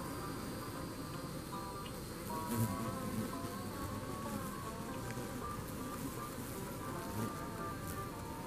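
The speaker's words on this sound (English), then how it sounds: "One of my bees is coming." A bee buzzes close by, its drone rising and falling as it moves around, steady over a faint outdoor background.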